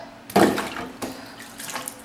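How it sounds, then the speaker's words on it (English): Water splashing in a sink or basin, an abrupt loud splash followed by smaller sloshes and drips, close by with no talking. "what did we say about splashing?"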